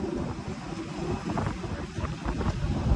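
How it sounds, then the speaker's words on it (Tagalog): Cold wind blowing outdoors buffets the microphone in a steady, rough rumble with gusts that swell and ease throughout, near and fairly loud, with no talk. "Hangin pa."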